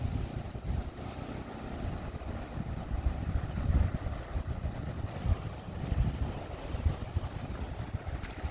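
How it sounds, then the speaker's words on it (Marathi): A steady rumble of sea waves washing on a beach at Devgad, mixed with gusty wind buffeting the microphone, with no talking. "मी पॉज देऊन तुम्हाला आवाज ऐकू दिला समुद्रांचा"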